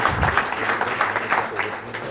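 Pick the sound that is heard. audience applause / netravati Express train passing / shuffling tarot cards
audience applause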